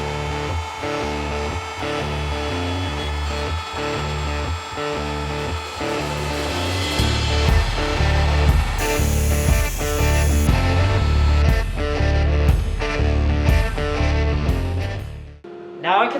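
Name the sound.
CNC router cutting with 1/4 inch end mill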